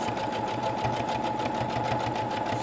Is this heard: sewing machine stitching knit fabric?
yes